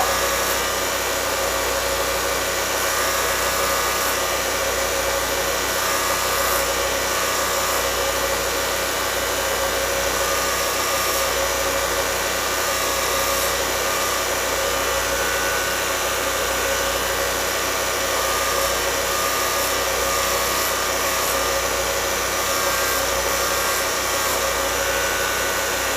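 A blacksmith's pritchel tip being ground, a steady, loud, unbroken grinding whine with a motor drone underneath that holds constant throughout, with no talking.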